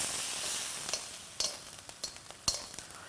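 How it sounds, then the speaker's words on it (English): Meat sizzles as it is stir-fried on the hot base of a wok, a steady faint hiss broken by several sharp crackles and spits. "The final method I'm going to show you is stir frying, which is a quick, healthy way to cook food through conduction."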